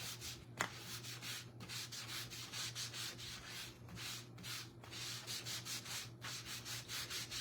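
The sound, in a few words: rubbing wax over a design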